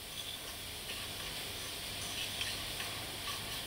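Bacon and onions sizzle together in a pot with a soft, steady, faint hiss and light crackle, alone with no talk.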